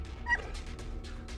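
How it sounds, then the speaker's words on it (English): A dog in a video game gives a short yip and a whimper, faint and brief, over a low hum and soft rustling, with no talking. "Bad dog, get outside."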